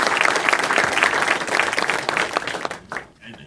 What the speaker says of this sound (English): He needs a king round of applause.